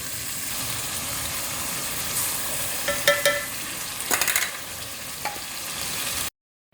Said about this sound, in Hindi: मटन ऐड कर दिया इसके अंदर, इसको हम अच्छी तरीके से भून लेंगे।